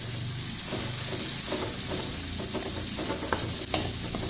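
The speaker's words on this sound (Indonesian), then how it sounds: "Langkah pertama, saya tumis dulu apa ini, bumbu uleganya, bawang merah, bawang putih, kemiri, ketumbar, dan merica." Spice paste of shallots, garlic, candlenut, coriander and pepper sautéing in a wok for tempe with green chilies, a steady loud sizzle under repeated scraping stir strokes, with no voices.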